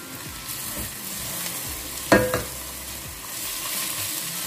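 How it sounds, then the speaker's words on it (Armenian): Carrot pieces and chopped herbs fry in a pan with a steady sizzle, broken by a sharp stirring scrape and clatter midway, with no voices. "Նույնպես հարկավոր է տապակել։"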